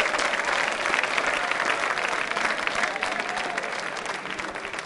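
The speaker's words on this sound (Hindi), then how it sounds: "मोहित के लिए जोरदार ताली।" A quiz show crowd claps loudly for a contestant who gave the correct answer, steady dense applause that holds strong and tapers slightly toward the end.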